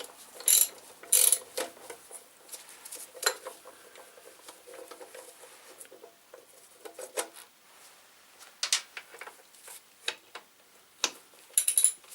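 A ratchet works on the radiator bolts of a Yamaha TDM850 motorcycle in a garage, giving irregular close clicks and metallic clinks with pauses between bursts, fairly quiet overall, no talking.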